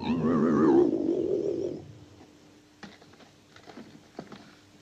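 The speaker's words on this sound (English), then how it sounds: "That's the sound of the saucer we heard on the tape." A loud, wavering electronic flying saucer warble played from tape in the 1956 film Earth vs. the Flying Saucers, lasting about two seconds, then fading to faint scattered clicks and near silence.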